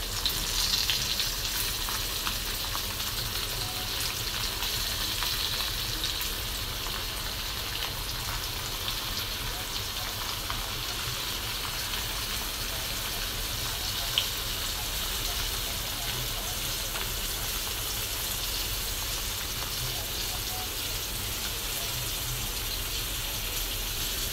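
A steady, close sizzle of fish frying in oil on a griddle hisses on for a long stretch, even and unbroken, with a few faint clicks and no clear talking.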